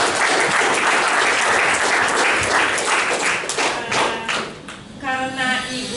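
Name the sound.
audience applause at a seminar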